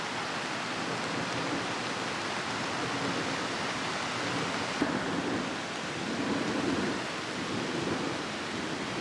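Steady, dense hiss of rain falling continuously, even and fairly loud, with no voices.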